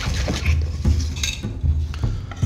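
Butter is worked into lembas batter in a bowl with a rhythmic, close stirring. Each stroke gives a low, thick swish and a light clink of the utensil against the bowl, about two strokes per second.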